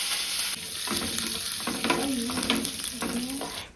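Curry leaves drop into hot coconut oil with popping mustard seeds, cumin and fennel, producing a loud, continuous crackling sizzle with bursts of spattering and the scrape of a spoon stirring.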